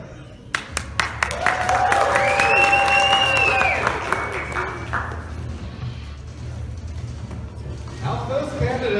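An audience in a room breaks into applause to welcome the first candidate at a Purim debate event, a burst of clapping swelling over a few seconds then tapering, with a voice speaking over and after it.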